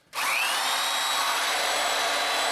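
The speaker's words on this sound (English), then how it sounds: "one other thing I should try is the actual electric jackhammers or demolition hammers that we use to dig" An electric demolition hammer used for digging an underground speakeasy runs steadily at full power, a loud, continuous harsh buzzing roar that starts abruptly and holds without pause.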